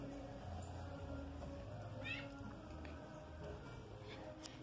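A pet cat meows in a home with caged canaries. A single soft, rising meow stands out midway, faint and fairly close, over a steady low background hum.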